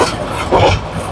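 The Cox's Bazar Express, running from Chattogram to Dhaka, gives a loud, steady rumble and hiss heard from on board, with a faint rhythmic clatter.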